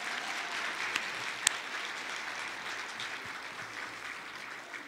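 A church congregation applauds during an afternoon service, a steady, soft wash of many hands clapping at a distance, with a couple of sharper claps standing out early on.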